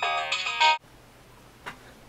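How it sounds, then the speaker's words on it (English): A telephone rings with a bright electronic tone in quick bursts that cut off abruptly, followed by quiet room tone and a faint click. "Oh, there's the phone."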